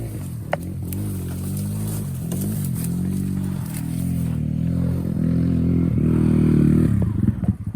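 A motorcycle engine runs steadily up close, its low droning note rising and falling as it revs and pulls, with clattering and scraping from the ride on a mountain trip to Mt. Ugo in Itogon, Benguet.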